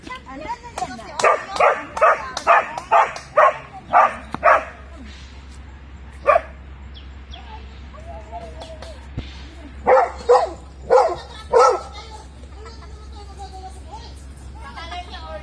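A dog barks in a quick rhythmic burst of about eight sharp woofs, then a single bark, then another cluster of barks, with a steady low hum throughout.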